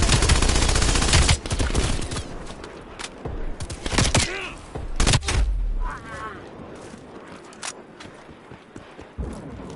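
Death Machine minigun fire in Call of Duty Black Ops Cold War comes as loud, dense rapid bursts with heavy impacts, mixed with other battle noise, then tapers to quieter game sounds.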